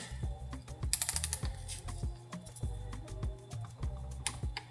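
A ratcheting wrench tightens a bolt on a WRX transmission detent kit with a rapid run of sharp metallic clicks, followed by evenly spaced clicks and clunks close by, with no talking.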